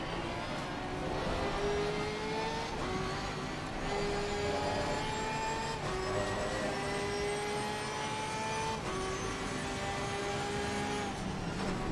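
Racing car engine in the Assetto Corsa Competizione video game, heard as a continuous moderately quiet droning whine that rises repeatedly in pitch through gear changes, with no talking over it.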